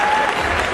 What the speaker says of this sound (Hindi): ताली इकट्ठी बजा सारे के सारे अभी